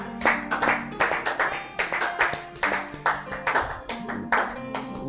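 A church congregation clapping and applauding together, a dense run of sharp, uneven hand claps at moderate distance that swells and eases in rhythmic bursts.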